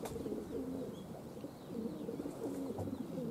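Pigeons coo in low, repeated murmurs against a steady outdoor background, moderately close and continuous.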